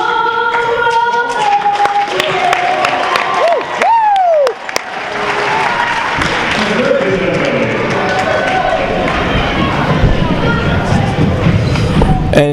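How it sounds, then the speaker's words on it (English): A large crowd of Weston Trojan fans roars and claps steadily at a boys' basketball game against New Fairfield at Trojan Stadium, with whistles and rising shouts rising over dense, continuous noise and voices mixed throughout. "Huge crowd here at Trojan Stadium."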